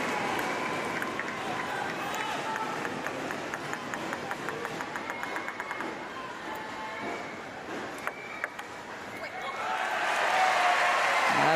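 Crowd applauding a point at a wheelchair para table tennis quarter or semi final, steady clapping under commentary, swelling louder near the end.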